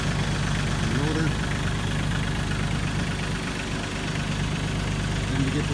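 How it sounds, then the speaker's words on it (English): A new Massey Ferguson tractor engine idling nearby with a steady low throbbing chug and slight knock, running continuously with a faint voice over it. "This is the brand new Massey Ferguson."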